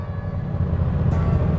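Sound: Yamaha FZ motorcycle engine idling

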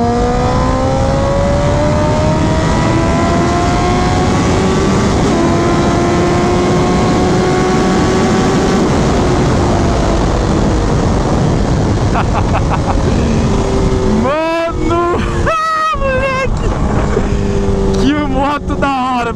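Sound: Suzuki GSX-R 1000 2004 motorcycle engine revving

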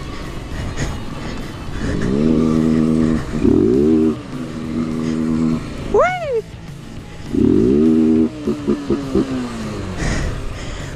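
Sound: motorcycle engine

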